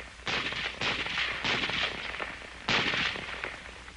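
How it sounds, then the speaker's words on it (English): An M1 Garand rifle firing, a series of about five sharp shots spaced unevenly, each with a short echoing tail, heard alone and moderately loud. "one man firing a Garand can do nearly as much damage as 3 men using the old type Springfield rifle"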